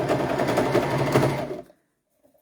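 A sewing machine stitches a leggings seam with a fast, steady mechanical whir up close, then stops abruptly, followed by a brief silence and a small click at the end.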